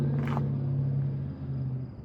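A Toyota Supra MK3 engine idles with a steady low drone, close and alone, after a brief higher burst at the start.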